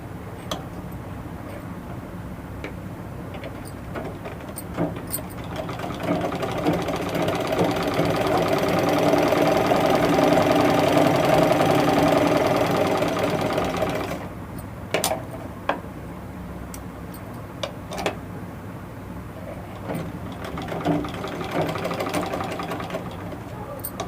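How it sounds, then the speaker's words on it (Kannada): A tailoring sewing machine stitches fabric in a steady mechanical whir that builds to a sustained run in the middle, with quieter ticking and handling noises before and after. "ಈಗ ನಾನು ಹೊಲಿಗೆ ಹಾಕ್ತೀನಿ"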